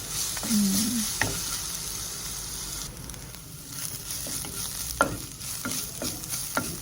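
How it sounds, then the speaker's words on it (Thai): Chopped shallots fry in oil until golden for a spinach and potato curry, a steady close sizzle broken by occasional scraping stirs of a spatula against the pan. "หอม หอมสับนะคะ เจียวให้หอมสุกเหลืองเลยนะคะ ก็เจียวสักพักหนึ่งแหละ"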